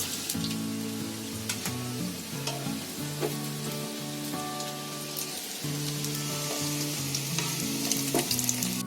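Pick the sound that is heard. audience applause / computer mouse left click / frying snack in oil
frying snack in oil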